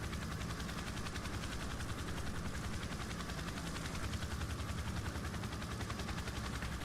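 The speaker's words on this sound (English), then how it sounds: "So here's another clip showing the county fire helicopter." Steady rotor chop of a county fire helicopter in the EmergeNYC wildfire game, a dense rhythmic thumping with a constant engine whine that holds at even loudness throughout, with no voices.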